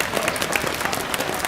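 An arena crowd at the 2013 European Curling Championships applauds steadily after an end in the men's 1-vs-2 page playoff between Norway and Switzerland, a dense, continuous patter of clapping with no voices over it.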